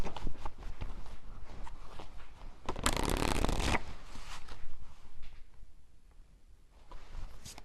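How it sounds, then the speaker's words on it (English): Tarot cards are shuffled close up in a run of crisp riffling and sliding flutters, with one louder, denser burst partway through and quieter handling before and after. "I just shuffled these and these were at the bottom."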